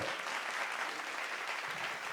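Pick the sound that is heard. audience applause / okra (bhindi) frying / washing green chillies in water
audience applause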